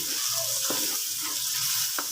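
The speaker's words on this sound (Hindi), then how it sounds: "अब हम इसे अच्छी तरीके से मिक्स करेंगे और इसकी हम 1 मिनट के लिए भुनाई" Chicken gizzards with tomato and yogurt sizzle and fry steadily in a pan while being stirred, with occasional scraping clicks of the spoon, close and continuous.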